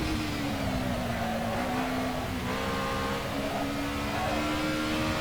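An Alfa Romeo 155 Ti V6 racing around the Imola circuit in Assetto Corsa on medium tires, its engine droning steadily at high revs with a smooth, continuous tone that shifts slightly in pitch, loud and up close.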